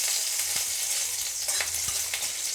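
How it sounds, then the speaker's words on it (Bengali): Green chilies and cumin seeds frying in hot oil in a pan, a steady close sizzle with a few sharper pops and stirring clicks, no talking. "লঙ্কাটাকে আমি একটু ভালোভাবে ভেজে নিয়ে তারপরে আমি আদা কুচিটা দেবো।"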